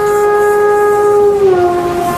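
A Konkan passenger train rolls along at low speed, a steady rumble with sustained tonal whine and hum, continuous and fairly loud without talk.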